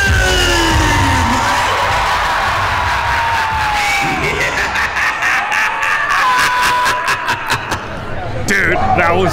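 A large crowd at a haunted house attraction yells, whoops and screams together, loud and sustained, with a few closer voices shouting over the roar.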